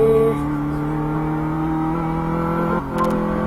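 A car engine in the driving game Car Mechanic Simulator 2015 holds a steady, droning tone while the car is driven, then briefly drops and comes back near the end.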